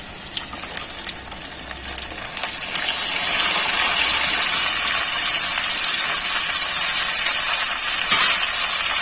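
Cut ram karela, seeded and washed, hit hot oil with half-fried potatoes for a prawn curry, setting off a loud, steady hissing sizzle that swells after a couple of seconds and holds close and continuous.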